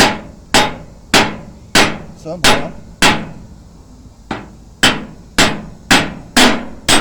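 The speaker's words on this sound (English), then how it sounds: "I got the nut back on it so I can take a hammer" Hammer knocking a bolt out of a leaf spring shackle on an equipment trailer: about ten loud, sharp metallic blows at a fairly steady rhythm, each ringing briefly, close by, with a single spoken word in between.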